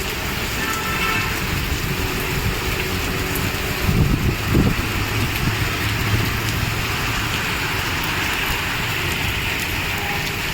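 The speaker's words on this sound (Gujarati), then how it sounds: "ધમ ધમધોખાર વરસાદ ચાલે છે" Steady heavy rain hissing across the whole clip in Chandkheda, Ahmedabad, a dense even wash of noise with a brief louder rumble midway.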